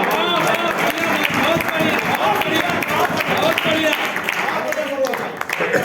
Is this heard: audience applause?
yes